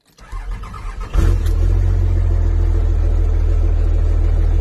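A Dodge diesel pickup truck engine cranks briefly, catches about a second in, then settles into a loud, steady, close idle rumble that runs to the end, with no talking.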